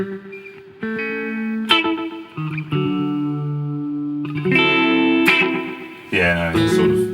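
Electric guitar played through an Old Blood Noise Endeavors Black Fountain delay pedal, with sustained chords and picked notes trailing into echoing repeats and a springy, reverb-like wash, close and fairly loud with no talking.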